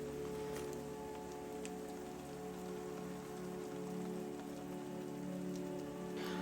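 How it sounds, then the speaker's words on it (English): Steady, heavy rain falls in Sligo, Ireland, in a dense, unbroken hiss, with a faint constant hum beneath the downpour. "after the heavy rain like you've just seen"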